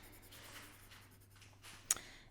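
A pencil draws a line across paper, a quiet, close, short scratchy stroke followed by a small tap as the pencil lifts.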